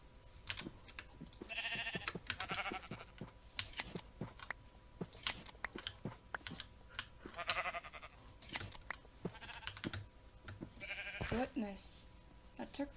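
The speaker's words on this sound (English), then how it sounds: "Sheep." Sheep bleat in Minecraft, several short wavering bleats scattered among clicky keyboard and mouse tapping, while a person talks quietly in the background.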